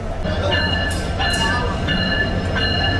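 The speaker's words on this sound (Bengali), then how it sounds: "এই যে আমাদের কুড়িগ্রাম এক্সপ্রেস ঢুকতেছে।" The Kurigram Express pulls into a station at night, a loud continuous rumble of rolling wagons with repeated high metallic wheel squeals and hiss bursts, and a person talks over it.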